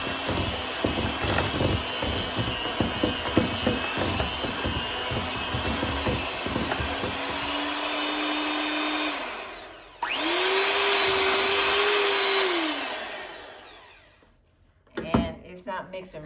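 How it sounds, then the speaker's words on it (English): An electric hand mixer runs in a bowl of white sugar for cookie dough, its steady motor whine holding for a few seconds, cutting out, then restarting at a higher pitch before stopping, with rattling and clatter at the end. "So I'm going to try to mix this with this mixer."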